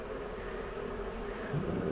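A steady, dense buzzing of a honeybee swarm in a compost bin fills the whole stretch at moderate level, continuous and even without pauses.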